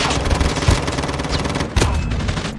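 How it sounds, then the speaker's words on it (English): Gunfire in a Call of Duty match, with a shotgun in use: a continuous loud clatter of shots, marked by heavier blasts near the start and again later, and no talking. "Put the shotgun in action."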